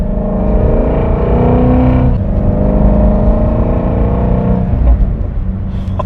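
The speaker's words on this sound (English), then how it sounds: "It likes to pop in between shifts, and when you're high in the RPM and you slowly let off the throttle, it has like this nice loud rumble crack thing." A Shelby GT350's exhaust rumbles loudly and up close, its engine note dropping and picking up again twice, as if between gear shifts, with no voices.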